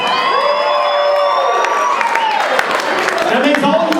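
An audience at a wrestling comedy show cheers, whoops and claps in a dense crowd roar, with a voice shouting over the noise.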